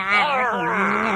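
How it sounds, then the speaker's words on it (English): A single drawn-out, wavering cat meow, close and clear, sliding downward in pitch over about a second. "No, she's saying meow"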